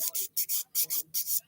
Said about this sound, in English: This is the 180 grit sponge file.